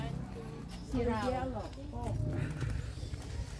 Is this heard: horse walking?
yes